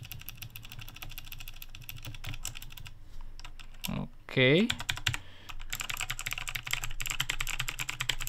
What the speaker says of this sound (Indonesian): Oh, Otemu biru. Jadi ini Otemu biru. Ini Otemu. Yang switchnya biru, jadi clicky ya.